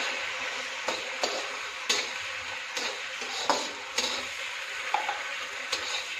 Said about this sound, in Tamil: இந்த வெஜிடபிள்ஸ் எல்லாமே செமி ஃப்ரை ஆனால் போதும் டீப் ஃப்ரை ஆகணுங்கிற அவசியம் இல்லை